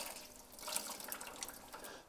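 Water drips and trickles from a large, absorbent home-center sponge as it is wrung out during toilet removal, a soft, steady splashing patter lasting about two seconds with no talking.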